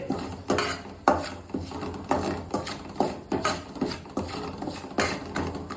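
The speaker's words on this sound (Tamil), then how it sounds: "இது கூட கொஞ்சம் முந்திரியும் கருவேப்பிலையும் சேர்த்து லேசாக வதக்கிட்டு" Cashews and curry leaves being sautéed in a pan for temple-style samba rice, heard as a regular series of loud metal spoon scrapes and clanks against the pan, roughly twice a second, over a steady background sizzle.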